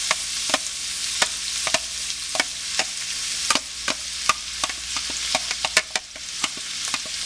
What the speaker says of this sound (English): I'm going to cook this down just a little bit with the bacon drippings.